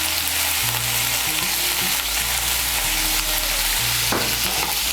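Chopped tomato and onion fry in a pan with salt for butter chicken masala, a loud, continuous sizzle close up, broken by stirring scrapes and shifting tones, with a sharp clatter near the end and no talk.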